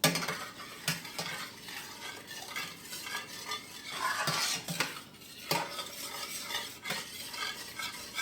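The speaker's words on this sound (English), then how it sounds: "And now I'm going to add some wine, some dry white wine." Dry white wine poured into thick meatball gravy in a pan and stirred, with repeated scraping strokes of a utensil, clinks against the pan and a soft bubbling sizzle underneath, close and fairly quiet.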